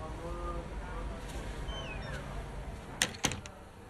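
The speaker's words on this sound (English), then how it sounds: "Shut the door, Cal." A door shuts in the racing game F1 25, two sharp close knocks in quick succession near the end, heard over a low ambient room hum.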